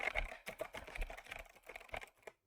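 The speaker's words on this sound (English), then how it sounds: "it's basically impossible to be in the same room when somebody types in this kind of keyboard" Rapid clicky keystrokes on an 8Bitdo mechanical keyboard, a close, uneven burst of sharp taps with no voices, stopping abruptly at the end.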